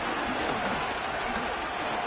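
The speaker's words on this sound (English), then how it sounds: "The crowd cranking it up another notch before 3rd and long" A stadium crowd roars in a Madden NFL football game as pressure builds before a third-and-long, a steady wash of cheering and applause filling the whole moment.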